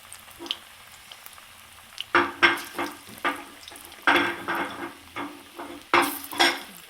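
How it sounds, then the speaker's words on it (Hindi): Cabbage pakoras dropped into hot oil in a pan, with close bursts of sizzling and frying as each piece goes in, set against a quiet background. "अब हम इसमें डालते हैं पकौड़े"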